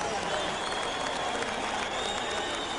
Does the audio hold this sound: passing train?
no